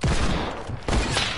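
Desert Eagle pistol fire in a video game, a loud dense burst of shots with a second strong shot near the end, busy and close.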